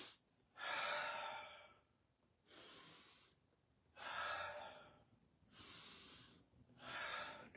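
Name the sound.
breathing in during a stretching exercise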